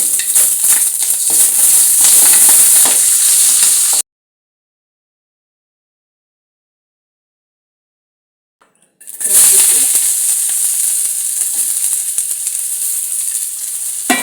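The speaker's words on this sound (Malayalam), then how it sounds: "ഉള്ളി വറക്കാം." Onions frying in hot oil, a strong hissing sizzle that cuts out for several seconds of silence and then returns just as loud.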